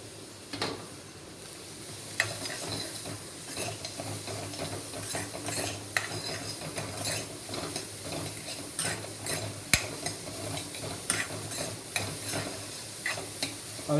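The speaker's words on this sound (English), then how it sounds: "Now I'll add my carrots and capsicum." Carrots and capsicum stir-frying in a pan, a steady close sizzle broken by the scrape and clack of a utensil stirring the vegetables, with no voice over it.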